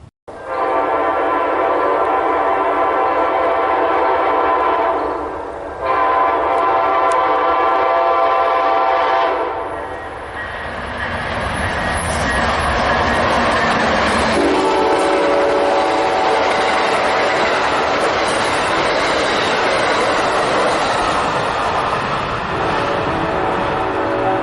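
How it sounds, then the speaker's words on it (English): A train near the Hardwood Store of North Carolina in Gibsonville, NC sounds its horn in long, loud blasts, with the steady rumble of the passing train carrying on between and under them. "I think I hear the train off in the distance"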